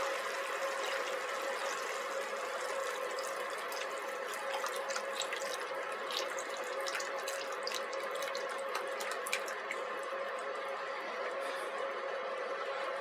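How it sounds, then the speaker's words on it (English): Beef broth poured into a pan of browned beef, a steady close splashing and hissing pour that continues evenly for the whole stretch, with small crackles on top and no voices. "I'm going to go ahead now, add about a cup of beef broth"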